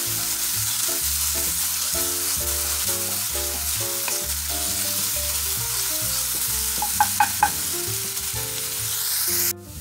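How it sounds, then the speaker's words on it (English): Onions sauteing in a pan for a ground beef and potato casserole, a steady close sizzle with occasional stirring scrapes and soft background music. "all we're going to do now is saute them"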